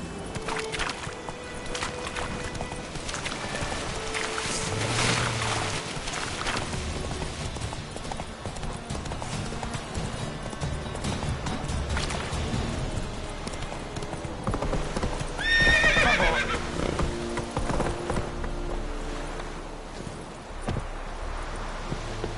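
Horse hooves clip-clopping at a steady trot while riding in the Witcher 3 video game, with an occasional whinny and faint background game sounds throughout.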